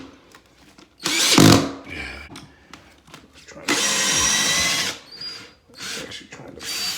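A power drill drives screws while laminate flooring is installed: two loud, close bursts of whirring, one short and one longer, with quieter clicks and handling noise between them and a brief final spin.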